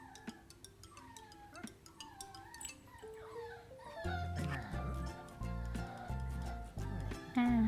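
A 45-day-old female Dalmatian puppy on a breeding farm lets out thin, rising whimpers and high yips, at first faint and sparse, then joined by louder, denser yelps and background noise in the second half.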